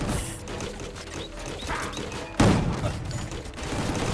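Rapid bursts of gunfire from the video game Gungrave G.O.R.E crackle in dense, repeated volleys, with a heavy thumping impact partway through.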